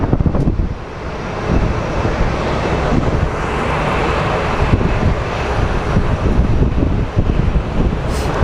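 Strong wind buffets the microphone at Sky Harbor International Airport, a loud, continuous rumbling gust noise that rises and falls, with distant aircraft or traffic mixed in beneath it.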